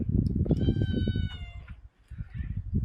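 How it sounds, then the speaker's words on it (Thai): A cat gives a clear, drawn-out meow up close in an old stone village in Gongcheng, Guilin, heard over a steady low rumble of background noise. "เมียวเมียว นี่แมวน่ารักไหม มันกลัวเราแมว"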